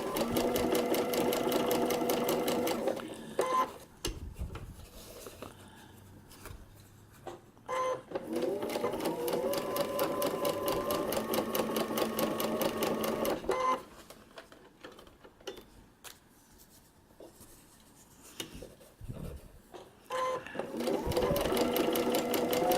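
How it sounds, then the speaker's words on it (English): A sewing machine stitching a paper-pieced quilt block runs in steady rapid bursts with brief pauses between seams, close and clear, while someone talks over it. "So we're going to continue to stitch, keeping this edge even."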